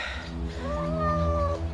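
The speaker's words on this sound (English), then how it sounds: "Oh, hi, Cat." A cat in a horror radio drama gives a drawn-out, rising and falling meow over a low background hum, close and fairly quiet, lasting just over a second with no speech.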